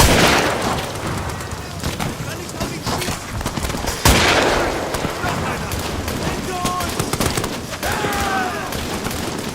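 Gunshots ring out in Amnesia: The Bunker, a couple of sharp blasts standing out over a dense, noisy battle ambience, with game voices calling out in between.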